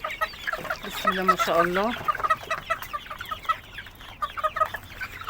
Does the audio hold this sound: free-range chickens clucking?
yes